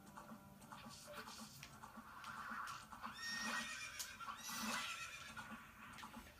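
A horse in The Legend of Zelda: Ocarina of Time neighs and whinnies repeatedly, loud and close, with clip-clopping hooves beneath and no talking.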